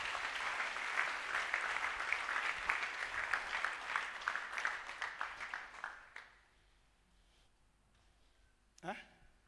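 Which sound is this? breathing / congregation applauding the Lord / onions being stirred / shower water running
congregation applauding the Lord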